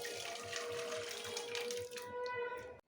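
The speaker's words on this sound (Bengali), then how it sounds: "এর মধ্যে ডালটা ঢেলে দিচ্ছি" Cooked lentil dal is poured into a large cooking pot, making a continuous wet, splashing pour for nearly three seconds that stops abruptly.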